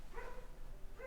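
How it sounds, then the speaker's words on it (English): A dog barks in the background during a talk about a husband and going out with friends, giving two brief yelps about a second apart, faint and distant behind low room noise. "I apologize for the dog barking in the background."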